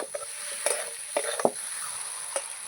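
Potatoes with spices and oil are stirred in a pan. A faint steady sizzle runs under a few scattered scrapes and taps of the spoon, with no talking.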